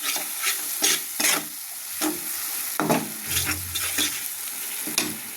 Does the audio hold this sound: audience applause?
no